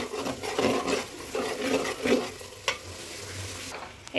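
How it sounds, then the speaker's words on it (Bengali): Spices frying in a pot are stirred steadily, with a soft sizzle under repeated scraping strokes of a spoon, close and moderately loud, and one sharper knock near the end. "এখানে আমি সব ধরনের মশলা দিয়ে ভালো করে মশলাগুলো কষিয়ে নিচ্ছি।"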